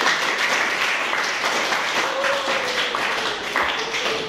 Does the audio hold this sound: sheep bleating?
no